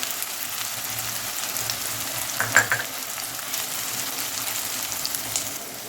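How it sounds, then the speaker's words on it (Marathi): Onions sizzle steadily in hot oil for mutton kheema masala, a continuous close crackle with a few brief stirring clinks near the middle, no voices. "कांदा आपण मस्त फ्राय करून घेऊ"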